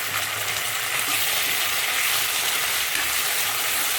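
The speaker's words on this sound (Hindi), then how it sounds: "प्याज भुने गए तो मैंने एक्स्ट्रा ऑयल अब निकाल दिया है और इसमें अब डाल दूंगी टमाटर" Tomatoes hitting hot oil in a pan of fried onions give a steady, close, broadband sizzle with faint stirring underneath, continuous throughout without voices.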